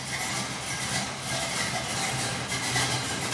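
A 1969 Chevrolet Camaro with a newly fitted exhaust idles outdoors in the rain, a low, steady rumbling engine note heard at moderate distance under a hiss of rainfall.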